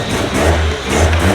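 A built-up rotary engine idles with a low, loud, choppy burble that pulses unevenly, close by and with no talk over it.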